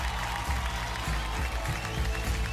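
Audience applause fills the hall at a Marathi awards ceremony, Maharashtracha Favourite Kon. Dense, steady clapping runs throughout at close range, over a low rhythmic rumble.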